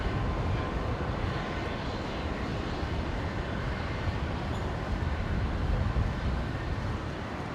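Airliner on approach to land on runway 19 right at Brisbane airport, a broad steady engine roar that swells slightly as it nears, with no speech.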